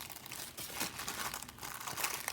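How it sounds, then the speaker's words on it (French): Plastic packaging being crumpled and crinkled up close during a look at embroidery canvas, steady crackling rustle throughout with no voice over it. "excusez-moi pour le bruit de plastique."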